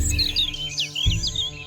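Bright, chirping birdsong with quick repeated whistled phrases in a British dawn chorus, fairly close and clear over a low background rumble.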